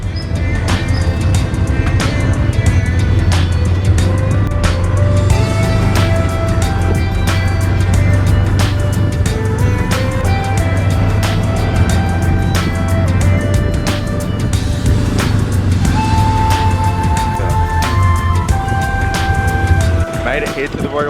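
Tuk-tuk ride through busy city traffic in Cambodia on the way to the Royal Palace, with a steady loud engine drone, passing vehicles, scattered horns and street noise throughout.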